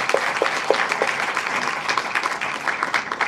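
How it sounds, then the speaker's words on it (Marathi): An audience at an arts award ceremony gives loud, steady applause in honour of Sumit's father, many hands clapping densely and continuously throughout. "त्यांच्यासाठी जरा जोरदार टाळ्या होऊन जाऊ द्यात"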